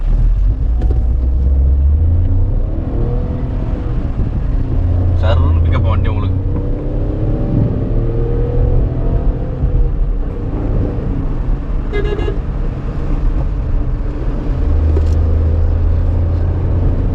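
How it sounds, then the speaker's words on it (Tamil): Tata Punch Adventure AMT compact SUV engine pulling in city mode, a loud close steady drone with gear-shift changes inside the cabin while someone talks over it throughout. "சிட்டி மோடில் வந்து இன்ஜின் சவுண்ட் எப்படி இருப்பாருங்க ஸ்போர்ட்ஸ் வண்டி மாதிரி இருக்கா நல்லா வருது பாருங்க சவுண்ட்"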